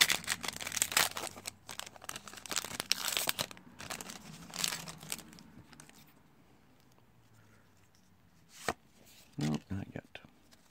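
Foil wrapper of a Pokémon Ultra Prism booster pack crinkling and tearing open up close, loud for the first five seconds, then quieter card shuffling and a few sharp rustles near the end.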